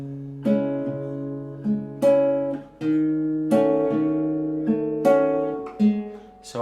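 Guitar playing the Narcos theme with the strings left ringing unmuted, a slow picked melody of sustained notes that overlap and bloom one after another; no voices.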